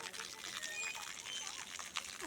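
Water runs from taps at a temple, a faint steady splashing trickle with small gurgles, heard from close by at low volume.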